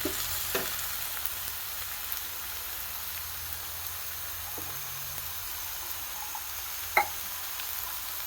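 Thoran stir-frying with cooked beans in a pan, a soft, steady sizzle with a few light scrapes and clicks from stirring, one sharper knock near the end.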